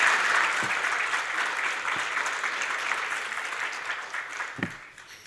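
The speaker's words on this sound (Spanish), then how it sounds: "Nuevamente un fuerte aplauso para el ingeniero" An audience at an international SuperMap forum in Mexico applauding an engineer after his presentation, sustained dense clapping from a crowd that slowly fades over about five seconds.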